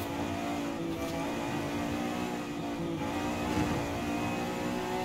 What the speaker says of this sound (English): It just sounds like a pure race car now.